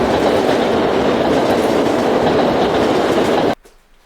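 A train runs along railway tracks with a loud, close, continuous rumble and rattle that cuts off abruptly near the end, leaving quiet.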